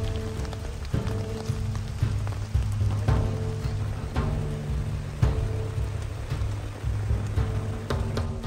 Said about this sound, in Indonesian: Kini hujan pun semakin deras